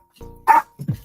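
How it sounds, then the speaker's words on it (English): Household dogs barking indoors: a short burst of two or three close, loud barks, one sharp yap followed by lower woofs, with no talking. "Dogs are gonna bark."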